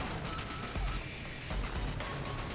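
Gunfire in Deus Ex: Human Revolution, with dense, booming bursts of shots and heavy impacts over a rumbling low end, steady and loud throughout with no talk.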